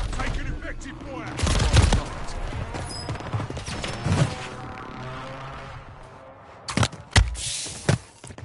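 Gunfire in Call of Duty MW3 Warzone, with a few loud bursts and single shots nearby, scattered across the clip against busy background game noise.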